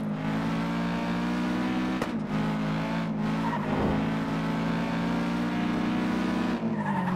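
Race car in the video game FlatOut 2 roaring with nitrous boost, a loud sustained engine drone mixed with skidding tire noise and a few sharp impacts, continuous with no talking.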